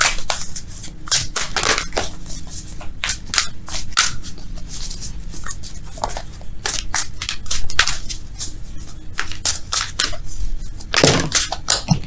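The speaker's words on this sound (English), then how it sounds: "Let's shuffle for real, though, okay?" Tarot cards shuffled by hand in close-up, a string of crisp riffling snaps and flutters coming in irregular bursts with short pauses, sharp and near.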